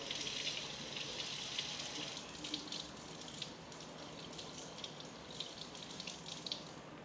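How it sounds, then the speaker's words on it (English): Running tap water splashes steadily into a sink, with faint handling and rubbing sounds under the flow as a lab specimen is washed for microscopic examination. "she washes the sample thoroughly with water"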